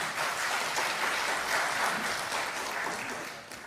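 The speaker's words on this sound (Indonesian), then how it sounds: "Kita kasih tepuk tangan untuk Pak Hariponto" Sustained applause rises from a hearing-room audience at an Indonesian parliamentary session with advocates, holding steady and loud before tapering off near the end.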